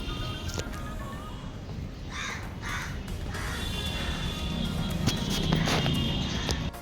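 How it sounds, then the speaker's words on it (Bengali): Crows caw loudly and repeatedly over steady outdoor background noise, with several close, harsh calls overlapping through the stretch. "কাক এত ডাকছে যে আমার কথাটাই হয়তো শোনা যাচ্ছে না"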